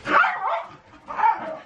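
Small excited dogs give two quick bursts of yipping barks with a short pause between, close and fairly loud, with no voices.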